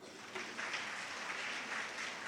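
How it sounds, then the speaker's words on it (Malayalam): A seated audience at a women's day church gathering claps briefly, a soft, fairly distant patter of applause lasting about two seconds. "എല്ലാവരും ഒന്ന് കൈയടിച്ചോ."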